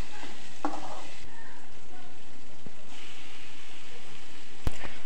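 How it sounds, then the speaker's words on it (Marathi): Chopped fenugreek leaves crackle and sizzle loudly in a hot oil tempering over high flame, with potatoes already fried in the pan, a steady dense frying hiss with a brief stir-like scrape near the end and no talking. "आपण फोडणीमध्ये मेथीची भाजी घालायची आहे व भाजी हाय फ्लेमवरती छान चरचरीत भाजून घ्यायची आहे"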